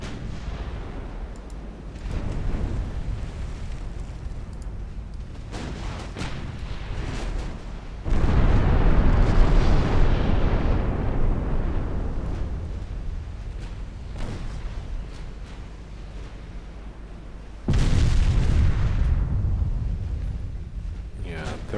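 Heavy naval gunfire from 13-inch guns on battle cruisers in the naval warfare game Ultimate Admiral Dreadnoughts, with loud deep booming salvos arriving in two big bursts over a constant rumbling background, while a voice talks along.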